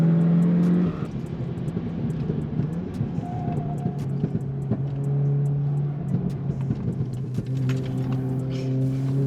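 A VW Golf runs its final lap on a race track, its engine a steady, close droning hum with shifting pitch as it works through corners, continuous throughout with no voices.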